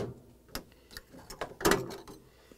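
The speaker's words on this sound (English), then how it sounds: "I'm going to insert the putty knife and pry this grill off." Whirlpool/KitchenAid/Maytag refrigerator grille being pried off with a putty knife: scattered plastic clicks and snaps, with a louder cluster of cracks near the end, close and fairly quiet.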